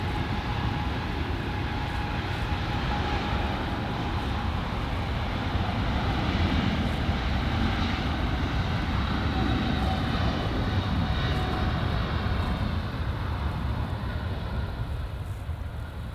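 An Air France Boeing 777 takes off at LAX with a steady, loud engine roar that holds for the whole stretch, broadband and constant with a faint tonal whine, no voices.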